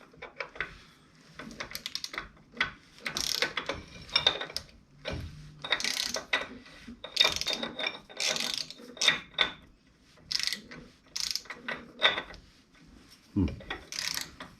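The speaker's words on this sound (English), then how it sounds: "all of a sudden you need help with the ratchet" A ratchet works on the front hub of a K5-K10 truck during a brake and rotor job, giving bursts of rapid clicking that start and stop irregularly, close and fairly quiet, with some faint background sound.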